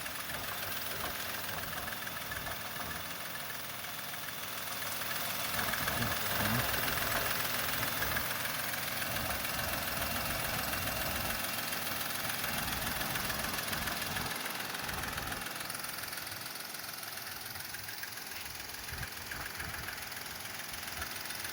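A Volkswagen Polo Trendline 1.2 petrol engine idles nearby with an even, steady mechanical hum and a faint ticking rattle, rising slightly partway through before settling back.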